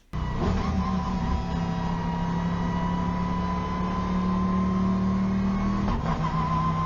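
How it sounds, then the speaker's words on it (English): A Ferrari racing car engine in a video game revs steadily at a sustained pitch near 4,000 RPM, droning loudly and continuously with a slight rise, no voices. "you can hear the engine wants to rev up a bit"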